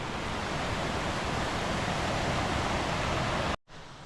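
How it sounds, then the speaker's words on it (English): Shop Creek in historic flood on the Buffalo River in Arkansas roars as a loud, steady broadband rush of churning water, continuous and close, cutting off abruptly near the end. "We made it across Shop Creek, but you can hear it roaring."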